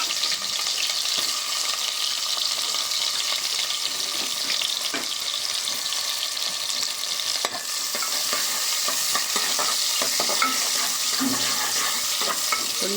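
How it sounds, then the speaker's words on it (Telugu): Onions fry in hot oil inside a pressure cooker, a continuous loud sizzle with a wet, watery texture and occasional stirring scrapes, no talking. "ఆయిల్ హీట్ అయ్యాక ఉల్లిపాయలు వేసుకోవాలి"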